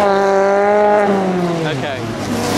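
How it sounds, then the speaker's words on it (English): A Mini's engine revs hard as the car leaves a car show, a loud rising and falling whine that holds high before dropping off, close by. "Next up is the Mini, he's revving quite a bit."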